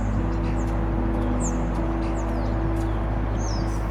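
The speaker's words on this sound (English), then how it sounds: "Just listen to these birds chirping really quick." Birds chirp outdoors in brief, scattered calls, faint over a loud, steady low rumble of wind or traffic noise.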